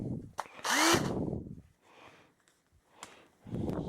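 Makita 18-volt cordless drill giving a short whirring burst near the start, followed by fainter intermittent motor noise and handling sounds, close and fairly quiet.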